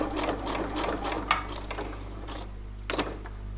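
Sewing machine running a straight seam with a regular zipper foot to insert an invisible zip in a skirt, a steady stitching burst of about two and a half seconds, then a pause and a short sharp clunk near the end.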